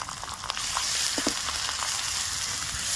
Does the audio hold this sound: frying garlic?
yes